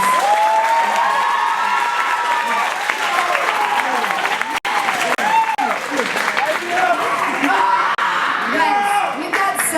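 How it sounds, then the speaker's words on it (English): An audience applauds performance artists at a school show, steady loud clapping mixed with cheers, whoops and crowd chatter throughout. "So let's give all of our walkthrough performance artists a round of applause."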